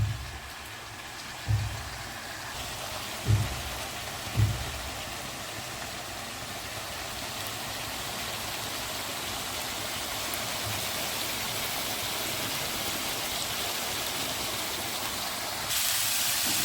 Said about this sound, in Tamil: இது கொஞ்சம் நல்லா வதக்கட்டும்.